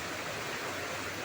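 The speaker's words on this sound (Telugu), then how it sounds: "కొట్టు అలా వచ്చేస్తుంది వాన." Heavy rain lashes down in strong wind, a dense, unbroken roaring hiss that fills the whole moment evenly and loudly, with no voices.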